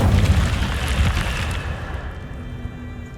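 Incendio fire spell cast in the Hogwarts Legacy video game: a loud, low whooshing burst that swells at once and then fades into a softer rumbling tail over a few seconds, with no talk.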